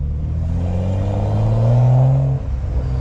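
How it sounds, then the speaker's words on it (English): BMW 535i fitted with a 3-inch single exit straight-pipe exhaust revving, a deep rumbling exhaust note that climbs to a loud peak and then drops back to idle, heard close and without talk. "you guys could hear like the exhaust sound more"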